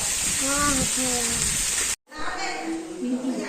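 Steady monsoon rain hissing in the background while people talk over it in Gujarati, broken by a brief moment of silence midway.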